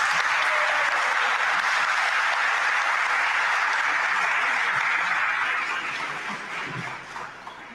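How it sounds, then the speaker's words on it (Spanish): An audience at a university seminar on 5G networks breaks into sustained applause, a dense, even patter of many hands clapping that fills the room and slowly tapers off toward the end. "Un aplauso."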